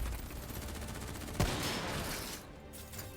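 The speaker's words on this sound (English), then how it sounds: "What the hell? Who's shooting?" Rapid bursts of gunfire from Call of Duty: Black Ops 3, a dense fusillade of overlapping shots with one sharp loud crack partway through, continuing steadily before easing off, with no voices.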